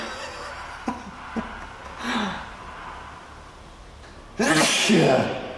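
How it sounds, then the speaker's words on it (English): A loud sneeze bursts out near the end, preceded by a couple of short clicks and a quick breathy intake. "Don't sneeze in this position"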